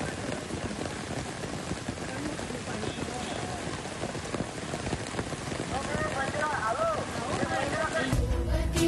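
Heavy monsoon rain in Maharashtra pours down as a steady, dense roar of drops on surfaces, continuous and loud, with a voice underneath.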